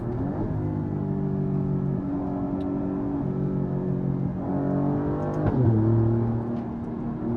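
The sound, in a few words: Alfa Romeo Giulia QV accelerating through gears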